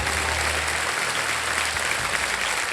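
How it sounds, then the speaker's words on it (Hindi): A studio audience at a TV quiz show claps continuously, a dense, even wash of applause that stays loud from start to finish with no talk over it. "तालियां बजती रहे देवी और संजय"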